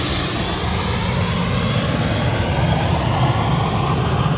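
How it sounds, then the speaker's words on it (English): An EasyJet jet airliner takes off at Manchester Airport, a loud, steady broadband engine roar that holds without a break throughout. "The noise of this thing taking off was one of the best noises I've had at the airfield in a while."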